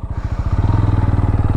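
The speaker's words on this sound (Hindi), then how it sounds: "ये देखो कितनी लेट स्टार्ट ले रही है यार।" A TVS Apache RTR 200 motorcycle engine cranks slowly, then catches into a steady, loud, rhythmic idle thump close by, with a faint clattery edge and no talking.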